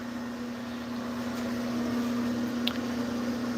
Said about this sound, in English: Sorry about the fan, it's kind of loud.